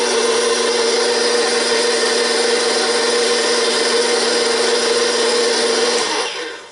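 Electric mixer churning Ezekiel bread dough, a steady loud whirring motor drone running continuously with no talk, then winding down and fading at the end.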